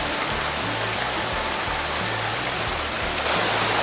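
River water after the rainy season rushes in a steady, dense wash, close and continuous, with a faint low rhythmic hum underneath.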